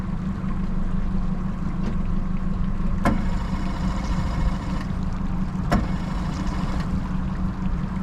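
A flooded engine on a 22-foot Ocean Pro boat is cranked, giving a steady, loud mechanical drone that holds throughout, broken by two sharp clicks.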